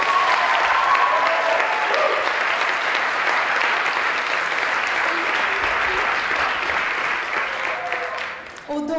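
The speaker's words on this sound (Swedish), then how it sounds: "En applåd till tycker jag." Sustained audience applause for a youth performing group before a musical, a dense steady clatter of many hands that holds loud, then thins and fades near the end, with some faint voices and tones mixed in.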